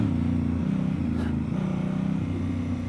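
A 2017 Honda Africa Twin motorcycle engine running steadily in first gear on a dry, dusty off-road trail, a loud continuous low drone with slight throttle fluctuations and no clear pauses.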